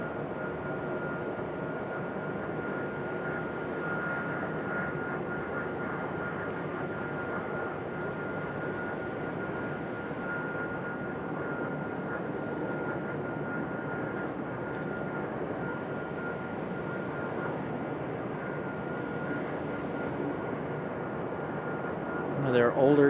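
A JetBlue Embraer E190 jet at Raleigh-Durham airport gives a steady, moderately distant engine roar that holds evenly and then swells slightly near the end.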